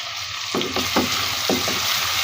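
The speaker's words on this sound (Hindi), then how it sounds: "पैन गरम हो गया है, आंच जो है वो तेज़ रख दी है मैंने और प्याज मैंने डाल दी है" Onions frying over high heat in a hot pan, a steady close sizzle with a few soft stirring scrapes, no talking.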